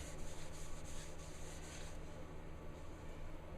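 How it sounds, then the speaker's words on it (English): A cloth rubs sanding sealer into a small turned wooden bowl, giving a steady, continuous soft scrubbing hiss with a faint rhythmic swish as the cloth keeps moving. "Just rub it liberally in, keep the cloth moving"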